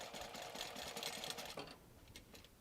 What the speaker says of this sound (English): Backstitch, and then stitch out to the end and backstitch again.